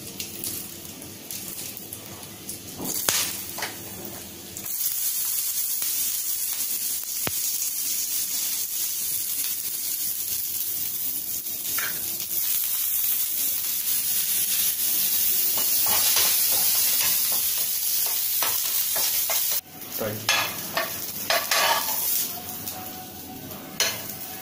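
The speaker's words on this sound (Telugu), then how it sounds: "సేమ్ పెనంలో కొంచెం ఆయిల్ పోసి కరివేపాకు, కొత్తిమీర వేస్తున్నాను." Curry leaves and coriander fry in a little oil in the same pan used for fish, producing a long, even crackling sizzle with occasional clatters of utensils and a sudden louder burst near the end.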